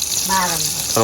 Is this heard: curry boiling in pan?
yes